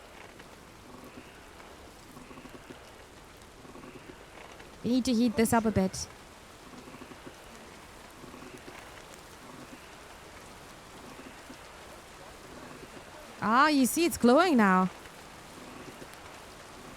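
Steady rainfall in Kingdom Come: Deliverance II, a soft continuous hiss of rain on surfaces running throughout, with someone speaking briefly twice over it.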